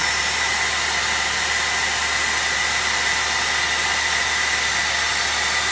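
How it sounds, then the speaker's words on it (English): A blow dryer running alone on generator power gives off a loud, steady, unbroken whoosh of airflow from start to finish, with no voices over it. "this is the only thing running is the blow dryer"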